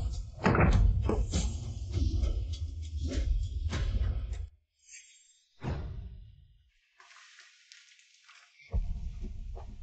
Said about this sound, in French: Quelqu'un enfoncez cette porte.